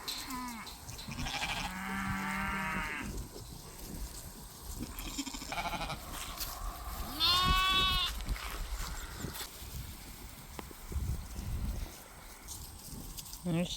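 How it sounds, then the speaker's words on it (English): Sheep on a farm guarded by livestock guardian puppies bleat in a few distinct calls, one nearby and loud, among quieter rustling, with people talking in between. "Got some sheep right here."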